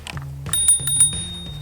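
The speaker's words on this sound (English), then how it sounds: "It even comes with a bell." A bell on a long-range e-bike rings several times in quick succession outdoors, bright metallic dings close by with faint rustling between strikes.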